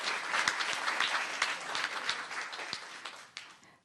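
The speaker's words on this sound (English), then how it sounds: "let's have another round of applause for Cooper." A town council meeting audience gives Cooper another round of applause, steady crowded clapping at close range that tapers off at the end.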